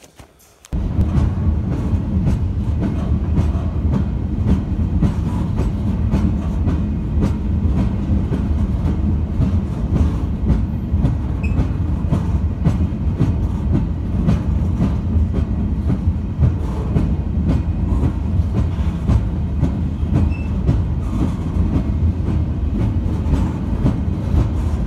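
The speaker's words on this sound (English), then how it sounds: "Late in the night, we got a train." A train on an American rail route between Thayer, Missouri and Belen, New Mexico rumbles loudly at night, with steady wheel clatter and a dense low roar after an abrupt start, sustained and close throughout.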